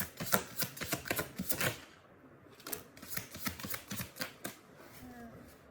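Tarot cards are shuffled close by in quick bursts of crisp riffling flicks, a brief pause in the middle, then another run of sharp paper slaps.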